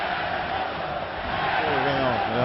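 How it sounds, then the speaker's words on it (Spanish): Peruvian football fans in a stadium chant against the national team coach Reynoso, a massed crowd roar with rising rhythmic voices swelling toward the end, heard as a dense, distant wash of sound. "Empiezan acá cánticos en contra del técnico de la selección."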